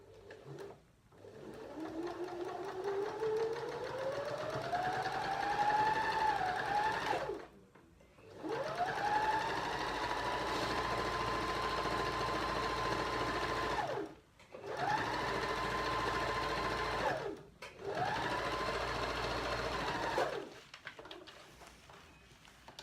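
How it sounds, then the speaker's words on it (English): A sewing machine stitches a quarter-inch seam for a quilt-as-you-go project, running in long steady whirring stretches that ramp up in speed, separated by brief stops, close and continuous. "talk amongst yourselves while I do this bit of sewing"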